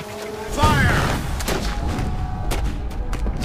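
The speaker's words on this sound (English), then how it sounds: "Then the heavy iron cannon and some thousands of small arms joined in and made the ground shake under our feet." Heavy iron cannon and massed small-arms fire in a War of 1812 Battle of New Orleans reenactment: a deep booming blast followed by rolling, crackling volleys and scattered sharp reports.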